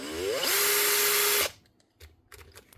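A power drill switched to auto start mode whines up and runs at a loud, steady pitch for about a second before cutting off abruptly, followed by quieter handling clicks and knocks.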